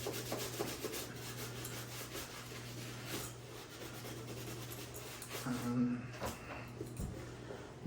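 Brush scrubbing Jordan sneakers during a cleaning, a soft, continuous rhythmic rubbing close by, with steady strokes and a low background hum.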